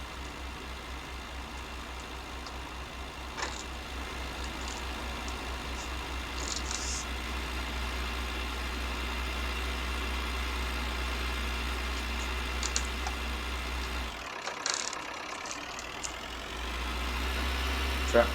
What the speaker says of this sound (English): Tractor on the disking is working pretty well.